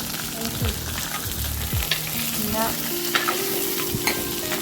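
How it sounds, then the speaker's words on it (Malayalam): Onions sautéing in a pan while being stirred, with a loud continuous sizzle and repeated scraping strokes of the spoon. A single word is spoken briefly. "നമ്മൾ ഉള്ളി വന്നിട്ട് ആ ചട്ടിയിലോട്ടങ്ങ് ഇട്ട് വഴറ്റി കൊടുക്കുക"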